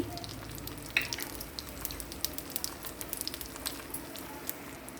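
A tempering of crushed garlic, four dried red chillies, mustard seeds and cumin fries in hot oil, making a soft, continuous sizzle with small pops and crackles, fairly faint and without voices.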